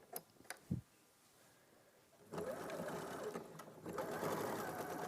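A sewing machine starts up and stitches along fabric from the right side, its steady close whirring running for the second half after a few quiet taps and handling clicks.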